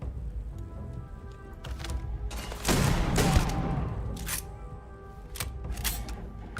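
Shotgun blasts in the sci-fi video game Starfield, a few sharp bursts with one heavy crackling shot in the middle amid game effects, fairly close and without speech.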